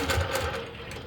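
Longarm quilting machine stitching through a quilt gives a brief, close mechanical rattle of rapid needle strokes that fades slightly toward the end.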